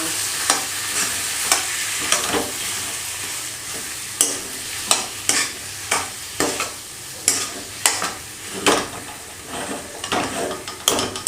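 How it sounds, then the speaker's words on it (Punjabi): Potatoes and onions coated in spices are stirred in a hot pan for aloo do pyaza, with repeated scraping strokes every second or so over a steady close sizzle, no voices. "ਮਿਕਸ ਕਰਕੇ ਸਾਰੇ ਮਸਾਲਿਆਂ ਨੂੰ ਚੰਗੀ ਤਰ੍ਹਾਂ ਇਹਦਾ ਕੋਟ ਕਰ"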